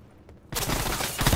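Dense, continuous gunfire in Call of Duty: Black Ops 4, a loud burst of rapid shots erupting after a brief quiet start and rattling on without pause.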